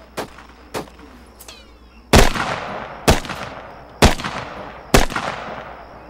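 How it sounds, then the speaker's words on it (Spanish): Sharp gunshots from the video game Arma 3: several lighter cracks early, then four loud booming shots about a second apart, each with a long echoing tail. "Me disparan. Disparo a la derecha."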